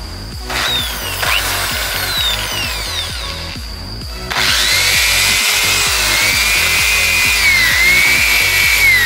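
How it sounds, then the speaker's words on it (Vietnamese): A power drill bores into a red rosewood tree trunk, its motor whining steadily while the bit chatters and grinds through the wood in a rapid rhythm, close and loud, with a brief pause before drilling resumes harder. "Bây giờ ta tiến hành khoan xem là cây này nõi được bao nhiêu nhá."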